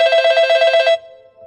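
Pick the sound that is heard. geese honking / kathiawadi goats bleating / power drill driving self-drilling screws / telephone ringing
telephone ringing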